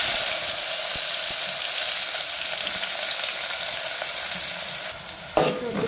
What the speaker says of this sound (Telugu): Two tablespoons of oil, కొంచెం పోపు గింజలు, కట్ చేసి పెట్టుకున్న ఆనియన్స్